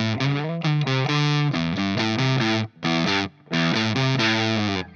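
Boutique English-built fuzz pedal set to LED clipping, giving a sputtering dying-battery distortion on a played guitar line: loud, buzzy sustained notes changing pitch in phrases, with two brief gaps, no talking.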